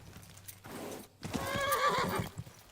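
A horse in a video game whinnies loudly with hooves clopping beneath it, a short close neigh following a brief rustle, with no talking.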